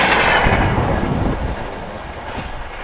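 A train rushes past a railway crossing at high speed, a loud, dense roar of wheels and carriages close by that eases slightly over three seconds, with no talking.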